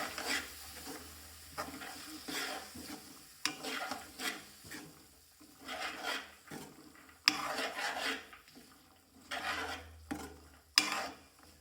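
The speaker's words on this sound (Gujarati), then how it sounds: "ત્યારબાદ આપણે મિક્સ કરીશું." A spoon stirs green pigeon peas and green garlic in a pan, scraping and rubbing in uneven strokes over a faint sizzle. Several sharp clinks of utensil on metal break through, all close and fairly quiet, with no voices.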